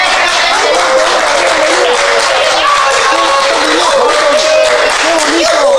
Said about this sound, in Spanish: Muy bien, aplauso.